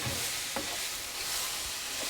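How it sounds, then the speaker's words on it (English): Vegan jackfruit barbecue filling sizzles steadily in a hot pan, a bright crackling hiss with a few soft scraping stirs, no voices. "You can hear it sizzling"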